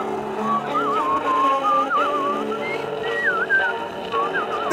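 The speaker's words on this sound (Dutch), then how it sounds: "Deze fluit gaat uw leven veranderen." A small handheld whistle sold at a Haarlem market is blown in wavering, warbling tones that slide up and down, loud and close, over a steady hum of street background.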